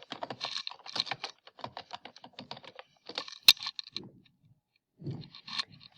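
Computer keyboard keys tapped in quick bursts while an email address and password are entered, close and crisp, with short pauses between runs and a louder single clack near the middle.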